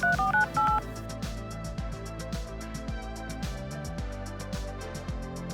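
A quick series of telephone touch-tone dialing beeps opens, dialing the number of an AI agent, then gives way to steady background music.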